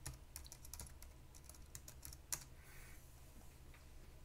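Rapid, quiet clicking of keys on a computer keyboard, irregular bursts of typing with one sharper keystroke, captured close up with no talking.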